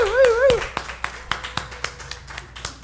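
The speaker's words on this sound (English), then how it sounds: "Let's give them a hand for our Board of Trustees." An audience applauds the board of trustees in a church class, a scattering of sharp claps that thin into irregular individual hand claps, with a brief voice or cheer at the start.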